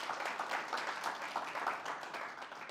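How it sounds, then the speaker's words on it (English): An audience applauds a speaker at a talk on leadership and confidence: dense, steady clapping, fairly faint and distant, with no voices over it. "can we just give him a round of applause and honor him?"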